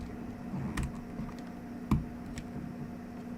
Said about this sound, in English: I'm gonna try taking the switch out of my keyboard and putting it back in.